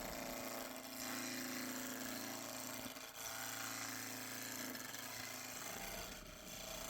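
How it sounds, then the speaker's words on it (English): A hunk of wood spun on a lathe and roughed toward round with a spindle roughing gouge, giving a continuous close scraping, rasping hiss over a low motor hum, with a couple of brief dips as the tool shifts. "To bring this to mostly round, I'm using my spindle rough and gouge."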